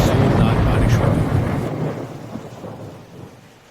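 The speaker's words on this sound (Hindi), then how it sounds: "अंधेरी रात में कड़कती बिजली के साथ जोरदार बारिश हो गई।" Heavy rain pours under a loud rumble of thunder that rolls and slowly fades, leaving the downpour hissing on.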